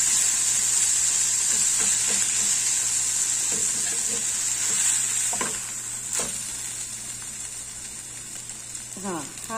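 A beetroot paneer uttapam sizzles loudly and steadily on a hot pan after being flipped. The hiss eases off partway through, a few scraping clicks are heard, and someone speaks briefly.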